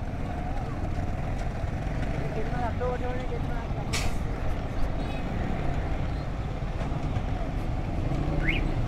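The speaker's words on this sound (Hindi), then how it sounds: "इस वक्त यहाँ पर जो कि CBF की गाड़ियाँ जा रही हैं" CBF trucks drive past on a rough, damaged road along the Malir River beside railway tracks, a steady rumbling traffic roar that fills the whole clip with a brief hiss near the middle.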